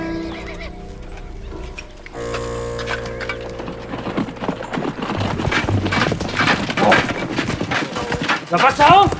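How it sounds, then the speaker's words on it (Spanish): Horse hooves clip-clop and a horse neighs in a historical drama scene, rising to loud, busy hoofbeats, with voices talking over them throughout. "Caballo."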